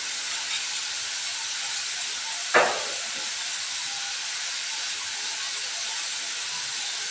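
A pot of green chilies and tomatoes with salt boils on the stove, giving a steady, even steam hiss throughout. A single sharp knock sounds midway.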